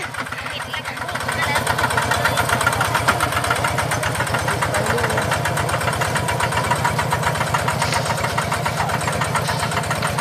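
A rice transplanter engine in a Thai paddy field runs steadily after a brief start, with a loud, close, rhythmic mid-pitched chugging that holds an even throb throughout, with speech mixed in.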